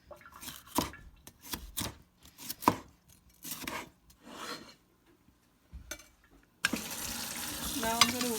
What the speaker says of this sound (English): So now I'm going to cut the pepper like into thin slice.